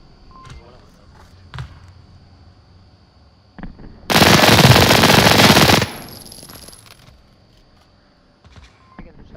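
Rapid automatic gunfire in a team video game match, a dense loud burst lasting about two seconds after scattered lighter clicks and effects, with a high tone ringing on briefly afterward.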